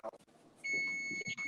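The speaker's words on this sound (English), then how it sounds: "I hear a lot of beeping." Electronic beeping sounds as a steady high tone near the end, partly under quiet voices and background murmur.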